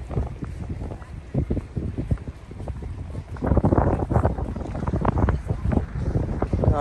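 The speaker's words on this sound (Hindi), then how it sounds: "काफ़ी तेज हवा बह रहा है" Strong wind buffets the microphone on Port Melbourne Beach on a sunny day, a steady roaring rush with gusty bursts throughout, and no clear talking over it.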